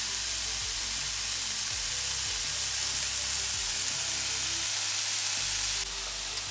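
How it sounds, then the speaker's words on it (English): Ingredients fry in a pan ahead of the egg whites, a loud, steady close sizzle that hisses without pause, with faint clinks underneath. "So I like to fry these off first and then put the egg whites in once they're cooked"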